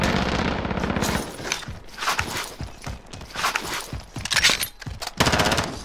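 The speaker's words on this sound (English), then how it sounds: "They're being shot." Rapid gunfire in the video game Warzone, with a dense burst of automatic fire followed by a string of sharp, evenly spaced shots, loud and close with no talk.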